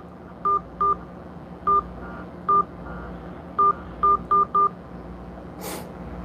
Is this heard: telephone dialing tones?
yes